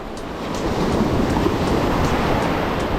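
Ocean surf breaking on a sandy beach where someone is fishing, a steady loud wash of breakers rolling in continuously with no voices.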